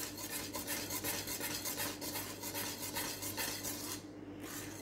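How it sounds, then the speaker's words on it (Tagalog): A utensil stirs puto batter with baking powder in a bowl, a steady scraping and clinking that stays fairly loud and continuous and briefly stops near the end. "Tapos mix lang natin."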